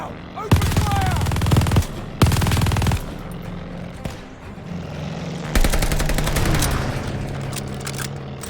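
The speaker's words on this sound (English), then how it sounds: "Now! Open fire!" Machine gun fire in Call of Duty: Vanguard comes in loud sustained bursts, two short volleys and then a longer stretch of rapid fire over the rumble of battle.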